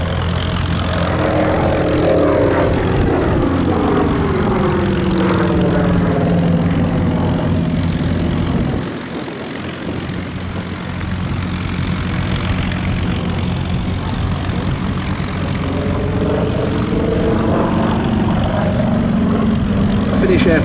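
A vintage propeller aircraft, a former target tug, flies past at the Duxford Battle of Britain air show, its engine drone rising and falling in pitch as it passes, with a commentator talking throughout.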